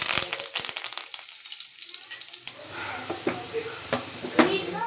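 Garlic and curry leaves sizzle in hot oil in a pan for an everyday masoor curry, a loud crackling burst at the start easing into a steady hiss with scattered pops.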